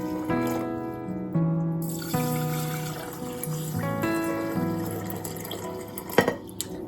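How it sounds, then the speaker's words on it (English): Water pours from a tap into a jar of seeds to soak them, a steady rising tonal gush whose pitch climbs as the jar fills, ending with a clink and drips. "So I'm going to add just enough water to cover them by an inch or 2."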